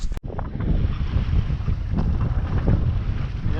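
A sailboat under sail, tacking upwind toward Umeå along the Gulf of Bothnia coast, heard as loud steady wind rush and water wash against the hull after a brief knock at the start, with no talk.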